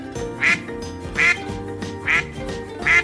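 A duck quacks four times at an even, steady pace, each quack loud and nasal against a faint droning background.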